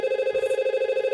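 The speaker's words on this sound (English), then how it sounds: "You can see it's ringing out" A VoIP desk phone call ringing out between office extensions, a steady pulsing electronic ringback tone, clean and close, with no voices.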